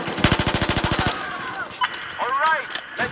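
Rapid automatic gunfire from a gun in Battlefield 4 rattles off in a fast, evenly spaced burst of about a dozen loud shots, then gives way to quieter game sounds and a brief voice.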